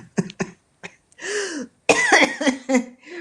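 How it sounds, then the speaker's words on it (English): Several short, sharp coughs close up, followed by a rougher throat-clearing cough and a longer, raspy coughing fit. "I'm getting your cough here"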